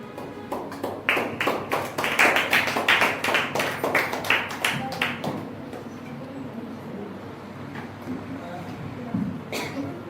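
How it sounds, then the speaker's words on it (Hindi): Church congregation at a Hindi-language Sunday praise and worship service clapping hands in welcome, a burst of sharp, fairly loud claps over several seconds that thins into room murmur and voices, with a late stray clap. "आइए हम सब अपने स्थानों पर बैठेंगे और पवित्र आत्मा का और सीमा का ताली के साथ स्वागत करेंगे।"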